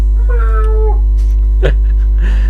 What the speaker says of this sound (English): His little pet snail that meows.